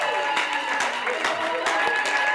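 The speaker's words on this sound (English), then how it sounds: "First was the clap, which you just did there very, very well" A studio audience claps together in a short burst, several sharp rhythmic claps close and loud, with a speaking voice running underneath.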